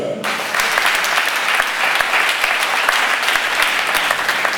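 A church congregation at a Sunday service claps loudly and continuously, dense applause filling the room with faint voices underneath.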